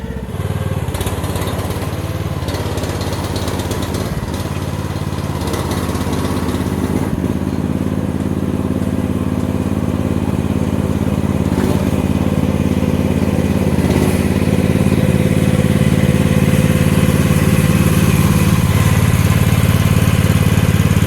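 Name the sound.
Chinese mini excavator engine running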